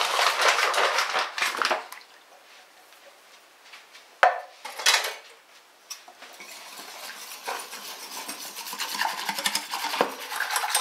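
Vegetarian lasagna ingredients are stirred in a pan, with scraping and clattering of a utensil against the pan in irregular bursts, some louder knocks, and quieter gaps between.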